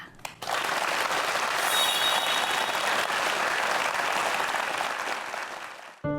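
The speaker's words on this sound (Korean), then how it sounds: "박수로 강연 먼저 청해 듣겠습니다" A lecture audience bursts into full, even applause to greet the lecturer, the clapping swelling quickly and holding steady for several seconds before fading out.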